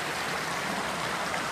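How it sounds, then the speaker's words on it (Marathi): Steady river water murmuring and trickling beside a quiet Konkan village, a continuous soft broadband flow with no voices over it. "पाण्याचा झुळझुळाट फक्त."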